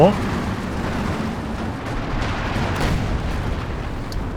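A Panzer IV tank is destroyed in Company of Heroes 2, a deep rumbling explosion bursting at the start and then rolling on under a commentator's voice with scattered battle noise.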